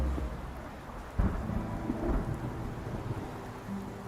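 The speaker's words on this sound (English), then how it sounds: "Subdued thunder grumbles in the sky" Thunder rumbling in the Love & Deepspace video game, a low distant grumble with one heavier roll over a steady bed of falling rain, moderately quiet and without voices.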